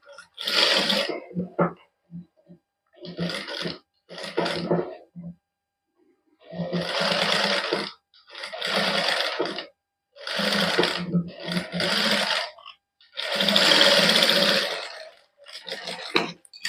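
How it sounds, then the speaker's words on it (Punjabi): Sewing machine stitching the neckline of a women's Punjabi suit, running in repeated bursts of steady whirring, each a second or two long with short pauses between, loud and close with no talking. "ਹੁਣ ਇਹਦੀ ਸਿਲਾਈ ਲਾ ਲੈਨੇ ਆ ਇਸ ਤਰ੍ਹਾਂ ਆਪਾਂ ਚਾਰ ਸਪੇਰੇ ਦੀ ਸਿਲਾਈ ਲਾ ਦਿੰਨੇ ਆ"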